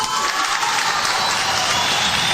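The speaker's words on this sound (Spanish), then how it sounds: "Recibe el aplauso de su bancada" Steady applause from a party bench in Peru's Congress during a swearing-in ceremony, a dense continuous wash of clapping from many hands.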